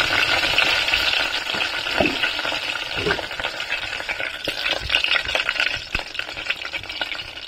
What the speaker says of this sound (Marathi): लसणीची फोडणी